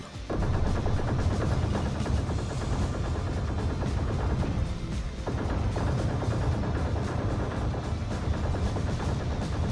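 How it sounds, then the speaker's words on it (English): Kuger L22 Alpha Wolf ship guns in Star Citizen, firing in a dense, continuous barrage layered over the ship's engine roar, loud and close throughout with a brief dip midway. "the sound of the guns combined with the sound of the ship itself is absolutely epic"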